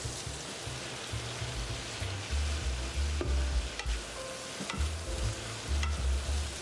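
Shrimp tossed and frying in a wok give a steady, close sizzle with recurring scrapes and clatter of stirring, and low rumbling bursts run throughout; no one speaks.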